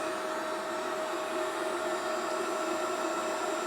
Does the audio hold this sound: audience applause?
no